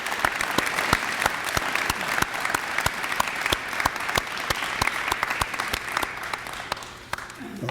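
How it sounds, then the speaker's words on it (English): A Veterans Day ceremony audience applauds the veterans present, with brisk, close clapping and distinct individual hand claps over a dense wash, fading near the end as a voice begins. "if we could all give a round of applause to all the veterans who are here today"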